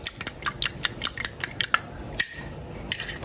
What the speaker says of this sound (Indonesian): Dan 2 butir telur, ini dikocok lepas seperti ini.